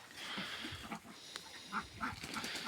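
Domestic ducks quack in short, scattered bursts during a pen clean-up, a bird just out of its bathing water among them, with steady splashing and background noise throughout.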